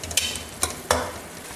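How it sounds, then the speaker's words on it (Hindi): Mutton frying with ginger in a karahi makes a soft, continuous sizzle, punctuated by three sharp clanks of a spoon stirring against the pan. "1 मिनट हम अदरक के साथ इसको फ्राई करेंगे"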